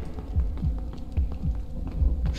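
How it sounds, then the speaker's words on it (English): A low, heavy heartbeat thuds in a steady double-beat rhythm over a deep droning hum in the horror video game Forewarned. "I hear heartbeats."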